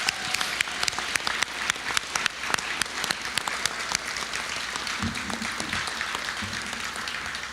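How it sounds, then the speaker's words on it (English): Audience applause for nonprofit workers at the Fernando Awards ceremony, a dense, steady clatter of many hands lasting the whole stretch at moderate level, with a few sharper claps standing out near the front. "would you please give a big hand of applause to all the people who run all of our nonprofits"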